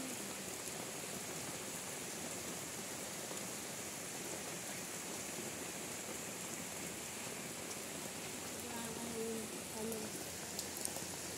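Steady rain falls without a break, a dense, even hiss that keeps going.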